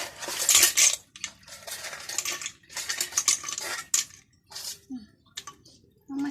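Cockles tumble into a mortar of papaya salad, bringing clattering, scraping bursts of shell and utensil against the bowl in uneven clusters, with a voice talking at times.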